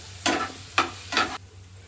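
Asafoetida hits hot oil in a pan, giving three short bursts of sharp sizzling, each flaring and fading, with a steady low hum underneath.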